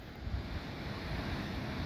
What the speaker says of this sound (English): Here I am at the beach. Santa Barbara.